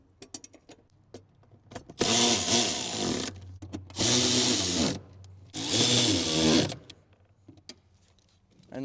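Three 10mm bolts are driven into a plate on a 2023 Nissan Leaf with a power tool, heard as three loud, close whirring bursts of about a second each, separated by short pauses and quiet handling noises.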